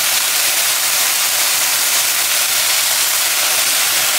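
Sliced onions and spices sizzle in hot olive oil, a loud, steady broadband hiss of frying held close and constant from start to finish, no voices over it.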